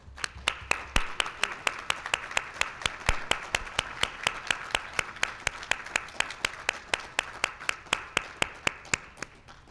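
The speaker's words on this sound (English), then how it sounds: "And I think a round of applause" Audience at a Parkinson's disease sleep talk applauding caregivers, with sharp, evenly spaced claps at a steady rhythm, sounding like a smaller cluster of hands than a full roaring crowd, continuing for about ten seconds without speech.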